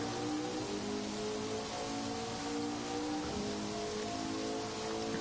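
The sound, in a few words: rain in a racing video game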